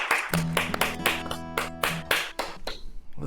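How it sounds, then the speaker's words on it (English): An audience claps loudly at the end of a music performance, with sharp, fairly regular bursts of applause that fade toward the close. "a nice loud clap at the end there"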